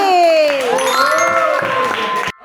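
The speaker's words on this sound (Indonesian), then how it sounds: "Oke, tepuk tangan buat Dandi." Cheering and applause from an audience at a talk or presentation, loud and continuous for about two seconds with shouting voices mixed in, then cutting off abruptly.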